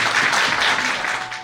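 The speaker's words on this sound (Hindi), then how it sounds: "ये तालियां की आवाज आप तक पहुंचेगी।" People at a plot lottery draw clap for a winner, a short, loud flurry of applause that softens slightly over a second and a half.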